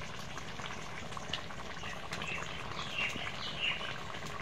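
Chana dal cooked with coconut milk and garam masala simmers in a pot, giving a soft, steady bubbling and faint popping, quiet and close with no talking.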